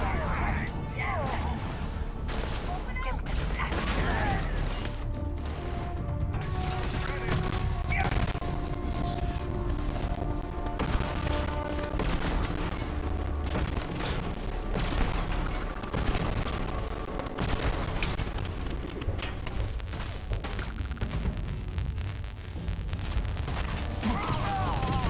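Shotgun blasts in the space shooter game Starfield, dense repeated booming shots over continuous action noise and explosions, with someone talking over the combat.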